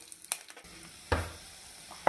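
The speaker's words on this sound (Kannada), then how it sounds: "ಎಣ್ಣೆ ಬಿಸಿ ಆದಮೇಲೆ ಒಗ್ಗರಣೆಗೆ ಸಾಸಿವೆ" Mustard seeds and curry leaves sizzle in hot oil for a tempering in a village kitchen, a faint, steady fry with a few soft pops and clinks.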